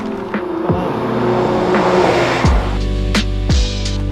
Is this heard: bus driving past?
yes